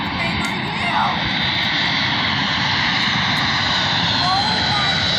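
A Delta airliner landing at Tampa International Airport roars steadily and loudly, a constant jet engine drone that stays close and even for the whole stretch.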